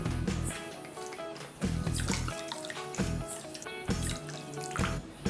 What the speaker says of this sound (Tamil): நான் எடுத்துக்கிட்ட சர்க்கரை அளவில் பாதி அளவு தண்ணி சேர்த்துக்கிறேன்.